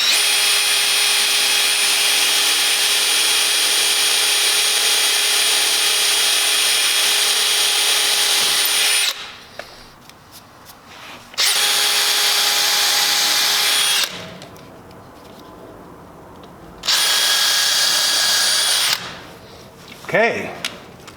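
Power drill boring a 1/4 inch hole for a stainless steel cavitation plate on a classic plywood boat, three sustained bursts of whining motor with short pauses between, close and loud.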